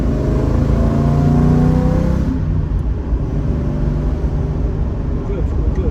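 Jensen Healey V8 pulls hard in second gear, its engine note rising loud and close for about two seconds before easing off to a lower, rougher rumble, with a voice speaking over it.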